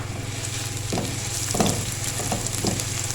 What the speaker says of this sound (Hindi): और इसको थोड़ा सा करेंगे फ्राई।